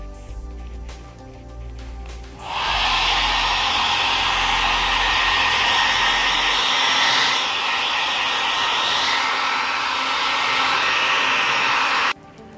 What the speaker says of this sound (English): I'm gonna use my blow dryer.